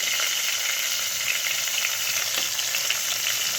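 Tempering spices crackling and spluttering in hot oil for an aloo meal maker tomato curry, a steady close hiss with scattered sharp pops throughout, no talking.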